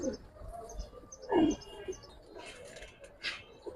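Giribaz and colored fancy pigeons give soft coos and brief chirps at a market, short and fairly close, with a few other faint sounds around them.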